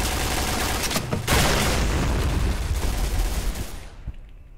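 Rapid automatic gunfire and booms in a shooting video game fill the clip, loud and dense for several seconds before tapering off near the end.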